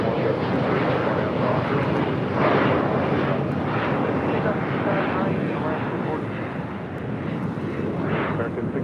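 EVA Air Boeing 777-300ER on short final for runway 24 left at LAX, a loud sustained jet engine roar with wind buffeting on the microphone, steady throughout.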